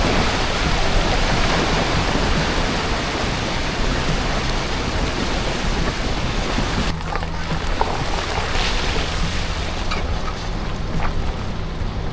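A vehicle fords a small creek at a Queensland campsite, with a steady loud wash of splashing water and engine rumble that shifts in character partway through.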